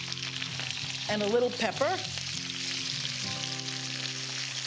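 Potatoes sizzle steadily in a frying pan while being seasoned for a Greek breakfast, with a constant hiss under a nearby voice that speaks briefly.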